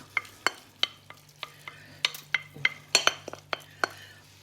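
Carrots and onions with spices frying in a pan for pilaf, with a spoon scraping and tapping the pan in quick, sharp clicks over a soft, steady sizzle.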